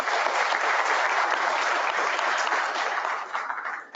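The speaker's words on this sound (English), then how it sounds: "a huge round of applause for our panelists and yourself" Audience at a Pakistan post-budget 2019 panel session gives the panelists sustained, fairly distant applause that fades out at the end.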